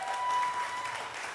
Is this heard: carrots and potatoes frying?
no